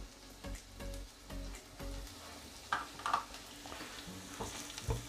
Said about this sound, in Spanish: Lo dejamos 30 segundos que el orégano se fría un poquito